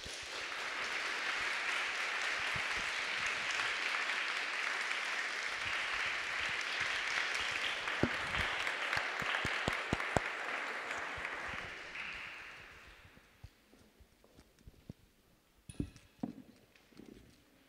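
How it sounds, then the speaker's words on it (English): A conference audience applauds a panel, a sustained burst of clapping that thins into scattered claps and fades to quiet room noise near the end. "nice round of applause for the whole panel"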